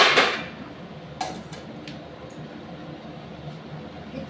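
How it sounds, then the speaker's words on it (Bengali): A lid is set onto a cooking pot of fried potatoes and bitter gourd: a sharp metallic clank at the start, followed by a few lighter knocks and rattles, then quiet kitchen background. "এবার এটা চাপা দিয়ে দিচ্ছি।"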